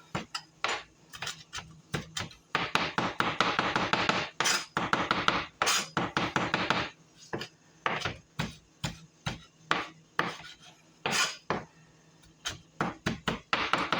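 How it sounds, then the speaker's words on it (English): A knife minces fresh parsley on a cutting board in a home kitchen, making quick close taps in bursts, first rapid and dense, then slower, evenly spaced chops. "So I'm just going to mince this up."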